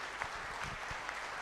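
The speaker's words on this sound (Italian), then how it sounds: "Fate un applauso agli infermieri e ai medici" A crowd applauds nurses and doctors at a political rally in Padova, a steady wash of clapping with a few louder claps standing out.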